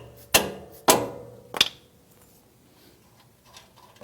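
Three sharp metallic hammer blows land on the lower shock bolt of a 2019 Toyota Tacoma to knock it loose, spaced about half a second apart and ringing briefly, followed by faint handling noises.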